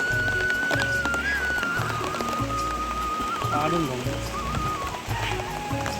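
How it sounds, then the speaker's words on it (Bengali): Steady rain patters on surfaces all around, a constant hiss with faint tonal sounds drifting over it. "এদিকে ফুল ফুটাতে ফুটাতেই বৃষ্টি চলে আসলো"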